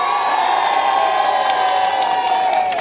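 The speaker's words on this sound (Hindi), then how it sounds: "जोरदार तालियों के साथ स्वागत कर दीजिए राकेश कुमार जी का" A studio audience at a televised political debate breaks into loud, sustained applause and cheering to welcome a panelist, a dense continuous roar of clapping with whoops throughout.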